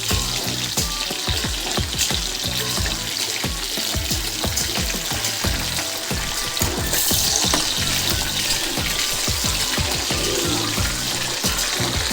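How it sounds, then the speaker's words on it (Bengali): Loud, continuous sizzling and crackling of pomfret frying in oil, close up, with scattered sharp pops and no talking. "মাছটা আমার এক পিট ভাজা হয়ে গেছে আমি উল্টে দেবো আবার"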